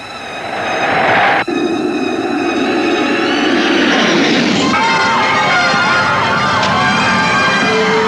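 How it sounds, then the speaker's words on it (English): A Concorde supersonic airliner coming in to land in the 1979 disaster film Airport '79, heard as a loud, sustained jet roar with a whining edge. A sharp break comes early, then the roar steadies and carries on to the end. "the Concorde, Airport 79, came in for a landing"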